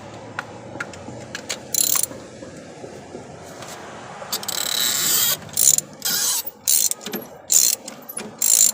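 A ratchet with a 14mm socket loosens a spark plug, clicking in quick bursts at close range. The short, rhythmic ratcheting runs come louder and more often toward the end.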